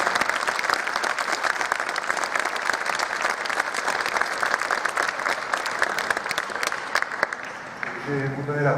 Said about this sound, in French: On est là, il faut les applaudir déjà.